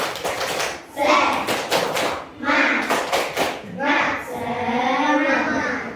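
A classroom of students performs the rhythmic 'tepuk semangat' clapping chant during a teaching practice lesson, with sharp clap bursts in set patterns alternating with children's voices chanting together.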